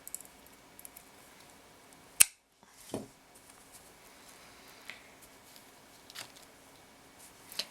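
Scissors snip through a bracelet's seed-bead thread in one sharp close cut, followed by faint handling ticks in an otherwise quiet room.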